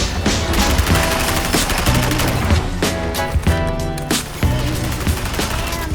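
Rapid, loud gunfire bursts pour into Superman in the Suicide Squad Kill the Justice League video game. Repeated volleys come in tight rhythmic clusters with brief gaps between them.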